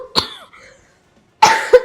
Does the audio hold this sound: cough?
yes